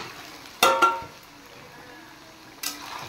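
Raw chicken dropped into a pan of fried onions with cumin and dried chillies, giving a sudden loud sizzling burst that fades over half a second, followed by a second, smaller sizzle flare.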